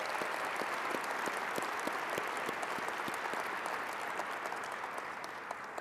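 A banquet audience at an awards dinner in Washington, DC applauds the FCC staff, a soft, distant patter of many hands with individual claps popping through as it slowly fades.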